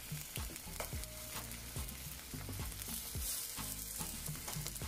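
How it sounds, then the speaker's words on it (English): Half a plantain fries in a little olive oil, a dense, crackling sizzle that runs throughout, punctuated by regular thuds and scrapes from the pan. "here I'm just frying up half of plantain to serve with it"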